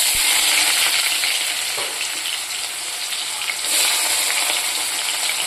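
Chopped onions fry in hot mustard oil with black cumin seeds for a river-fish curry, giving a loud, steady, dense sizzle and crackle that carries on without pause, with no talk over it.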